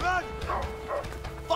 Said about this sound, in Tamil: ஏ நாய் விட்டானுடா.